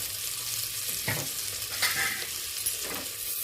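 Turmeric stirred into melted butter in a pan gives a soft, steady close sizzle, with a few scraping strokes of the spoon.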